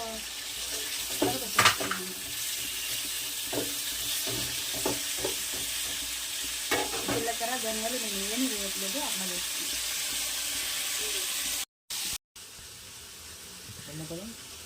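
Tomatoes frying in oil in a pan, a low steady sizzle under a voice that talks over most of it, with a few louder clatters and a brief dropout near the end.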